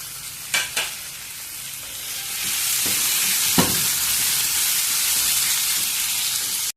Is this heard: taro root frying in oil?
yes